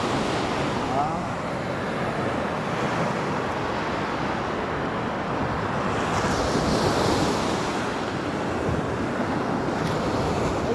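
Steady wash of shallow surf breaking close by on the coast of Oman, with wind buffeting the microphone throughout and no pause in the roar.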